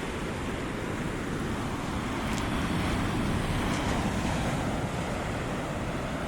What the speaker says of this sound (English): Always running away from the waves,